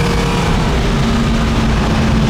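A 1974 Camaro Z28 muscle car pulls hard through second and third gear toward 90 mph, its engine a loud, steady, close roar heard from inside the car with no talking.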